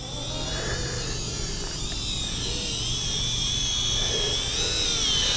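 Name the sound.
WLtoys Q353 amphibious toy drone flying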